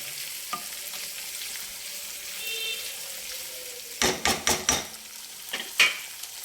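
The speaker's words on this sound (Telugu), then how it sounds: "మనకు తొందరగా ఆయిల్లో ఉల్లిపాయ వేగిపోతుంది." Onion pieces fry in hot oil with a soft, steady sizzle. Partway through comes a run of sharp spoon or spatula clacks against the pan, and no one speaks.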